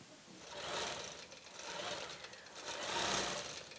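An embroidery sewing machine stitches out a tree pattern in a rapid, continuous buzzing rattle that swells and eases slightly, close and fairly quiet.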